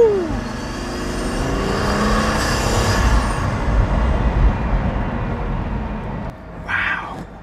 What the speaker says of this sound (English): All the sound, the turbos, the spooling going in and out, the exhaust